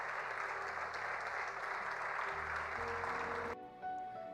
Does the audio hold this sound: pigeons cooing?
no